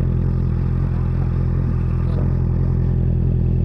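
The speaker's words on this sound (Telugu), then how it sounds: "ఇక్కడ 2 brothers exhaust with DB killer, carbon fibre exhaust." Motorcycle fitted with a Two Brothers carbon fiber short underbelly exhaust with its dB killer in place, producing a loud, close, steady throbbing engine rumble that holds without pause.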